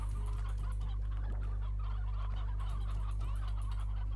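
Poultry gobble and cluck in a continuous busy cackle over a constant low hum in the video game Slime Rancher, moderately loud and unbroken, with no speech.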